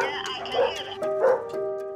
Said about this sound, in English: You'll have to put up with a bit of dog noise because I've got quite a few dogs around me.